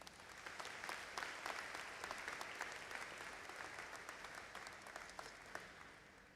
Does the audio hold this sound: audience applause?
yes